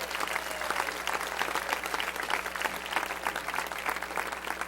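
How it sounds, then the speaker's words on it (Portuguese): A church congregation applauds during a sermon, with many hands clapping in a steady, lively patter that fills the hall at a moderate distance, with a low hum underneath. "Quantos podem aplaudir a grandeza de Jeová?"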